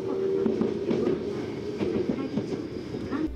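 A subway train running above ground on the Yokohama line, heard from inside the carriage as a steady rumble with a sustained tonal hum and rhythmic clickety-clack of wheels, loud and continuous throughout.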